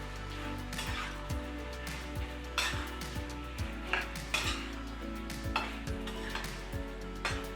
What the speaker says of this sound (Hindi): पनीर के पीसेस हमने पहले फ्राई किए थे, तो उन्हें डाल लेते हैं। एंड इसे भी अच्छी तरह से मिक्स कर लेते हैं।